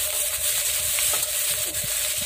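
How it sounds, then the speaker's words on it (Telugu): Chopped onions and green chillies frying in hot oil in a pan, a steady close sizzle with faint crackles throughout. "కొంచెం నూనె మరగడానికి తొందరగా చేసి దానిలో ఉల్లిపాయలు వేసేసుకున్నానండి"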